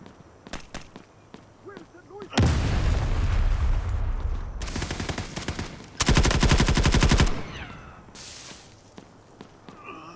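Rapid machine-gun bursts and gunshots crash out loud in a shooter video game's Zero Dam mission, with a dense sustained volley mid-clip, a sharp stuttering burst after it and a final shorter blast, while footstep-like clicks and brief thumps sit between.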